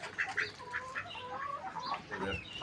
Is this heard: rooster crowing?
yes